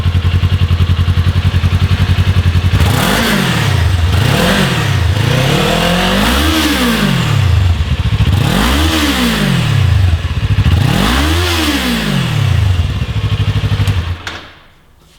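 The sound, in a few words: Kawasaki Ninja 400 stock exhaust idling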